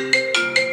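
A phone rings with a FaceTime call, sounding three repeated bright chime bursts at a steady rhythm, clear and close with no one talking.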